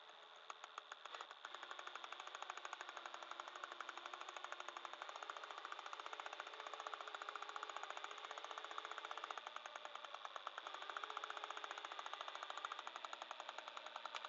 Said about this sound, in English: Get the drill on this guy.